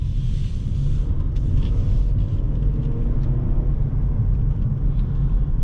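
Inside a 2018 Lincoln MKZ Black Label under way, a steady low road and engine rumble fills the cabin at an even level throughout, with no voices.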